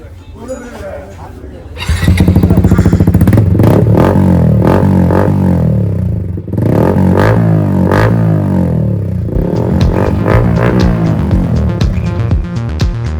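A Yamaha MT-15 with a loud, raw modified full-system exhaust starts up and idles with a heavy throbbing rumble, blipping the throttle in repeated revs; close by.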